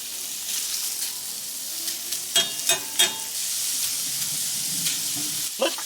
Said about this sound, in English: Dump the bacon here.